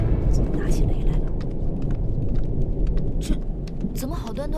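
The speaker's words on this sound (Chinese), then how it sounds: "这怎么好端端的打起雷来了？" Heavy thunder rolls with steady rain during a storm over a heavenly palace in a fantasy drama, a loud continuous rumble close by that lasts the whole stretch, with a brief voice near the end.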